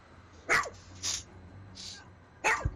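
A big pet dog in the video game Grim Dawn barks in short, loud bursts, about four separate barks spaced unevenly, close by over a quiet background.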